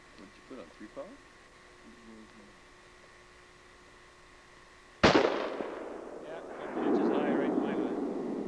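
A rifle fires a single sharp, loud shot at Fairfax Lake, its report rolling and echoing across the water for several seconds; before it, a few quiet voices talk.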